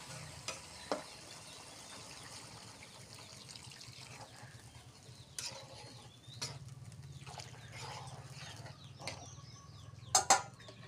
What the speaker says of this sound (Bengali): এখন টমেটো আর পাতা আবার ভালোভাবে একটু কষিয়ে নিব